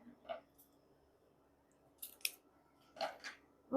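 Striped ribbon is scrunched down while a bow is made, giving a few short, crisp crinkling rustles separated by near silence.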